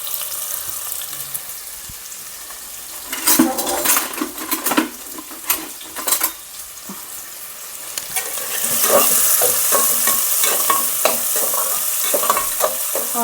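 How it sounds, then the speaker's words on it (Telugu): Two medium chopped onions drop into hot oil for an Andhra-style ridge gourd mutton curry, sizzling steadily with bursts of spoon clatter and stirring, the frying swelling louder and hissier in the latter half. "దాంట్లో ఆనియన్స్ వేస్తున్నాను."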